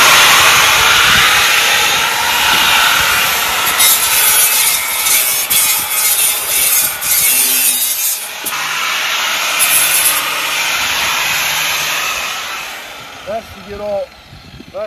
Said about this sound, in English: Changing over to the polishing or sanding